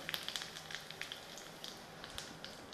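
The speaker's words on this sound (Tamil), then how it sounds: "கடுகு உளுத்தம்பருப்பு பொரியுதுங்க" Mustard seeds and urad dal spluttering in hot oil, a quiet, close crackle of small irregular pops and ticks over a faint sizzle.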